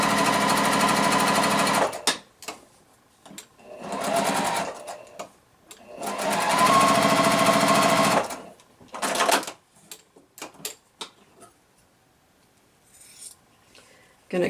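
A sewing machine stitches quilt pieces along a drawn line in three loud, sustained bursts, followed by quieter scattered clicks and handling noises.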